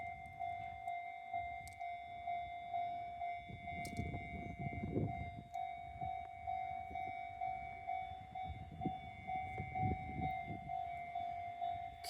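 Crossing bell ringing steadily at a level crossing near Noda-Shinmachi Station, with a train rumbling past in low swells underneath, moderately close, no talk.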